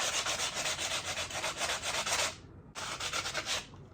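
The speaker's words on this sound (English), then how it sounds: "perhaps what I'll do is take a sanding block here. I've got a cork block." Steady scratchy rubbing of a cork sanding block over a wooden corner, rhythmic back-and-forth strokes, a brief pause, then more sanding before it stops.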